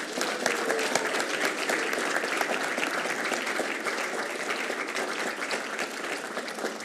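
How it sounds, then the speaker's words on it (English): An awards ceremony audience gives a sustained round of applause, dense even clapping from a large crowd that holds steady and loud for several seconds. "Give a round of applause, please"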